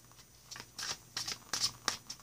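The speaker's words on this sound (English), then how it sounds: "if I can manage to shuffle the deck without it" A shiny, smooth tarot card deck being shuffled by hand in a series of soft, quick riffles and slides, close and fairly quiet, with no talk.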